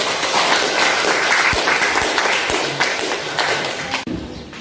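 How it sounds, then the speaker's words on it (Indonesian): An audience in an Indonesian classroom gives sustained applause for a student group after a religious-education presentation, with loud, even clapping that fades out near the end. "Kasih applause untuk kelompok satu."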